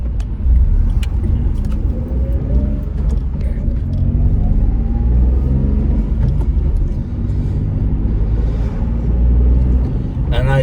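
Cars pass on a South African road around a vehicle that is waiting for a gap in traffic. A steady loud rumble and road noise continue throughout, with no one talking.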